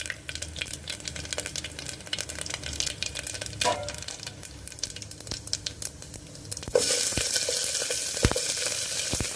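Onions tipped into very hot oil for a Kashmiri green bean and onion gravy, crackling and sizzling steadily with scattered pops, then bursting into a louder, denser hiss partway through as they hit the pan; no talking.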